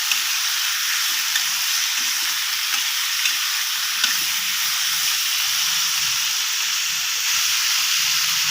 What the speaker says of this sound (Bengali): আলুটাকে আমি ভালো করে ভেজে নেব।